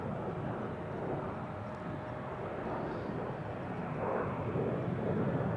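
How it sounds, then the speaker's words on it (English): A Lufthansa CRJ 900 regional jet departs for Munich, giving a continuous low rumbling engine roar that swells slightly toward the end, heard alone without talk. "That's a CRJ 900 long range."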